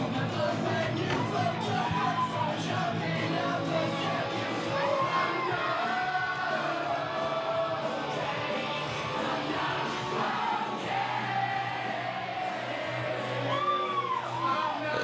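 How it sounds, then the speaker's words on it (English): A wrestling crowd cheers and yells through entrance music at an emo night deathmatch show, a loud, dense roar with scattered shouts and whoops that carries on steadily throughout. "The crowd is lapping up this emo night more than I ever could have guessed."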